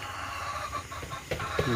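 Tiger breed chickens cluck softly at close range on a farm during brooding. Several short clucks come near the end over a low background murmur.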